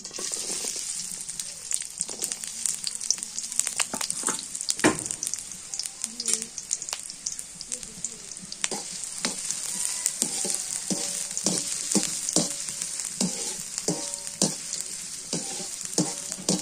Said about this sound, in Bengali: পেঁয়াজটা লাল লাল করে ভাজানো একটু ভালো হবে।